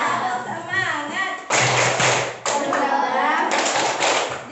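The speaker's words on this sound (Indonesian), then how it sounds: "kita tepuk semangat dulu. Siap? Tepuk semangat." Classroom children doing a rhythmic spirit clap in a morning class, crisp bursts of hand claps and taps in short patterns mixed with young voices and a teacher talking.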